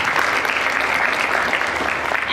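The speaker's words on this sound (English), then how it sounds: "let's give them a round of applause" A conference audience at a keynote event applauds, a dense and steady burst of clapping that fills the room for a couple of seconds.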